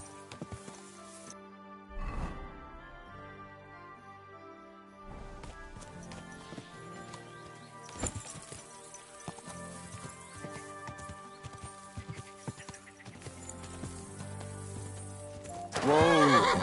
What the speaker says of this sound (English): This must be the ugliest horse I've seen in my life.